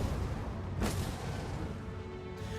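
A dwarf flame cannon fires in a strategy video game, a single sharp broadband blast that rings out over a steady, busy battle din, with no voices present.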